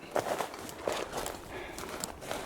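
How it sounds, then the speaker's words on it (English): Faint footsteps and light knocks come from behind a group exploring a large jungle gym down a hill, soft and irregular with no talk. "We're still hearing footsteps and knocks behind us."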